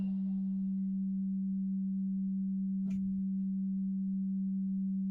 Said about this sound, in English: this tone that you're hearing in the background is the Hertz 192